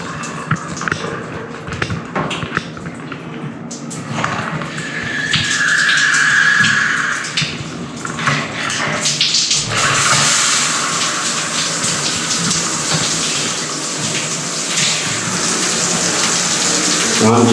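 A handheld shower sprayer on jet mode blasts water against a glass shower door to rinse off soap scum, a steady broadband hiss that grows louder and fuller partway through and continues close by, with faint voice beneath.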